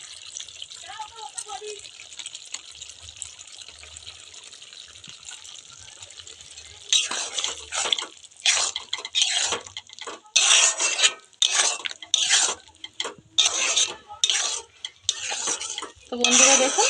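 Poppy seed paste going into a simmering stem-and-potato curry in a pot: after a quiet stretch, a run of loud stirring and scraping clatters with wet splashes, close and irregular, with no talking.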